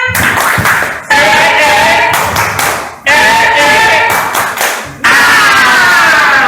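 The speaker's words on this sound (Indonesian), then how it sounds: "coba tepuk semangat" An audience answers the call for a rhythmic spirit clap with loud, patterned bursts of clapping and shouting, in three or four surges separated by brief pauses.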